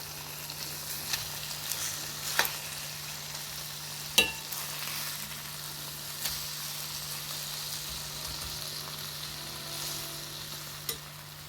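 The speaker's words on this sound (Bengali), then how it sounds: "এবারে মাছগুলোকে উল্টে দেবো, খুব আস্তে আস্তে উল্টে দেবো।" Pomfret fish fry in a pan with a continuous sizzle, broken by a few sharp clicks and scrapes as the pieces are turned over.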